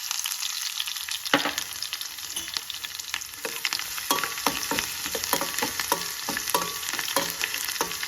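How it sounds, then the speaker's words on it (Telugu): Garlic sizzles steadily in hot oil for a dal tempering, a continuous close frying hiss broken by repeated sharp crackles and spatters, with no voices. "వెల్లుల్లి బాగా ఫ్రై చేసుకోవాలి"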